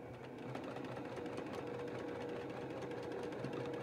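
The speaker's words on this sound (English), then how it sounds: "this is a little different kind of a sewing machine" A household sewing machine runs steadily and up close while backstitching fabric for a face mask, its fast, even needle chatter continuing without a break.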